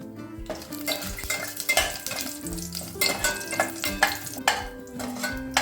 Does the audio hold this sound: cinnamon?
yes